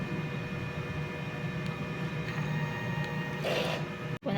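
A DTF printer runs a head clean cycle with a steady mechanical hum and whine, with a brief louder pump-like burst near the end, no talking.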